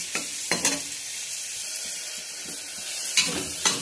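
Onions sizzle and fry in a pan for mutton soup, a steady hiss broken by several sharp scraping stirs of a spatula against the pan, close and alone.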